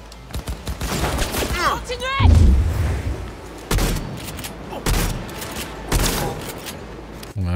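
Shotgun blasts in the Cyberpunk 2077 video game, a series of sharp, loud reports spaced about a second apart, mixed with game sound effects while someone talks over them in French.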